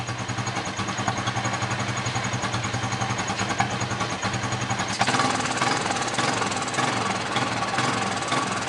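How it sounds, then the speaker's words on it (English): A motorcycle engine holds against its rev limiter, producing a loud, steady, buzzing drone that grows harsher and more intense partway through. "Sounds like it's got a rev limiter,"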